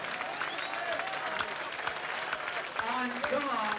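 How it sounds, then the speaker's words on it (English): A crowd at a darts match applauds and cheers in a sustained, loud wash of clapping, with voices mixed in throughout. "Absolutely no doubt about who the crowd are behind."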